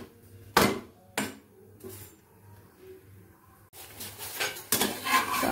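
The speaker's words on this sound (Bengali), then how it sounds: "তো চলো এই যে ভাজা শুরু করেছি" Metal utensils clatter and scrape against a pan while a paneer-stuffed paratha is fried at home, with a few sharp knocks spaced apart, then busier clinking toward the end over a faint low hum.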